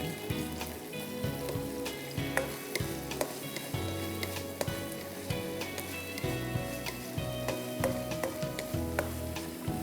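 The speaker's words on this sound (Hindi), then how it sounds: "इसको हम अच्छी तरह से फ्राई करेंगे।" Breaded chicken frying in oil in a pan over low heat, a constant crackling sizzle with frequent small pops and occasional knocks, heard close up.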